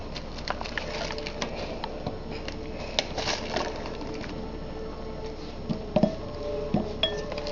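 Small cut pieces of glycerin soap dropped into a bowl give scattered light clinks and taps, a few brief knocks standing out against a quiet background.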